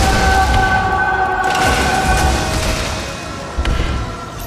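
Gunfire and heavy booms from a video game shootout, several loud blasts layered over a dense rumbling background, with a fresh burst near the end.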